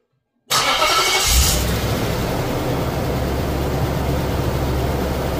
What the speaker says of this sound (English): So let's start a car